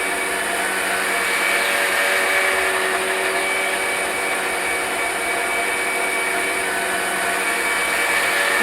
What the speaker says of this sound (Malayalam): മിക്സിക്കകത്തിട്ട് തേങ്ങ അവിടെ കിടന്ന് അരയട്ടെ.